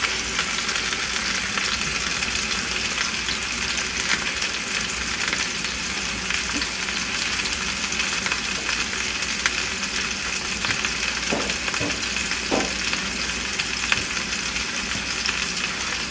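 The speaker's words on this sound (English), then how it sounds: "I've sliced up some onions, just in big slices. I'm going to throw that in there." Big slices of onion frying in a pot for chicken and sausage stew, giving a loud, dense, unbroken sizzle that carries steadily throughout with only faint occasional clinks and no speech.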